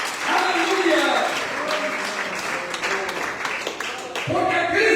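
A church congregation applauds loudly during a sermon, with steady clapping that runs under a preacher's speech and singing-like voices.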